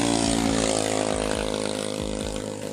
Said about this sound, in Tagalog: Kasi napakalakas ng tunog ng andar ng makina mo guys.